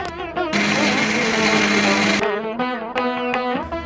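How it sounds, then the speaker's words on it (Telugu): A mixer grinder whirring as it grinds soaked urad dal for dosa batter, a loud close motor whine running steadily with brief stops and restarts near the end. "ఇలా నానాక మినపప్పు మెత్తగా మిక్సీ చేసుకుందాం."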